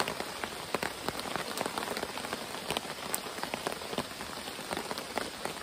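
Steady rain falls at a riverside camp along the Uwharrie River, a dense even patter of drops with scattered sharper taps close by, fairly soft and with no voices.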